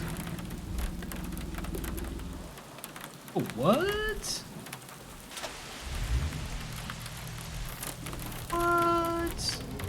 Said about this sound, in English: Storm is passing. Stay alert.